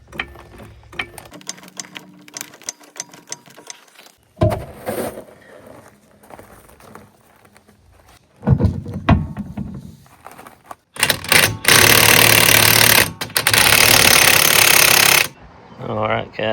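Lug nuts being fastened by a ratcheting tool as the rear wheel goes back onto a C8 Corvette after black lug nuts are fitted: bursts of loud mechanical ratcheting and whirring alternate with clicks and quieter handling, including one long, sustained run.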